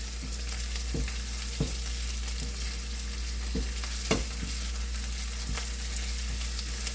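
Finely chopped potato fries in a pan with a continuous close hiss, and a spoon scrapes and knocks at a steady pace as the potato is stirred for puffed rice poha.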